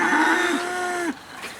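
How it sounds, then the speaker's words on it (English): A cow lets out a single long, clear moo at moderate distance, the call holding steady before breaking off, with a fainter low sound just after. "Cows aren't happy because they don't know what's going on"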